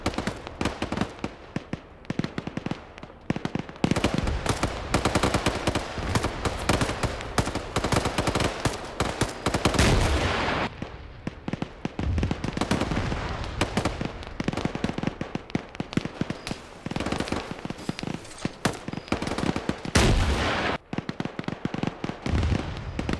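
Russian munitions cooking off on a derailed train in a video game: rapid, crackling bursts of popping detonations run almost continuously, like firecrackers and machine-gun fire, with a few louder bangs and brief lulls.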